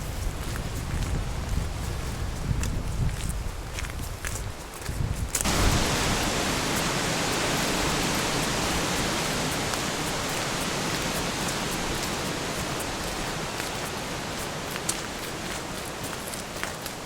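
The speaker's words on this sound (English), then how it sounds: "we're heading into the rain" Steady rain hissing around hikers in Snowdonia National Park, a dense, even wash of noise that swells abruptly louder partway through and holds on strongly, with wind gusts earlier on.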